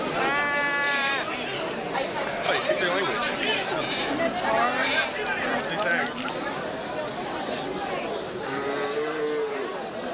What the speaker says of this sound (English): Tourists flock to the goat markets.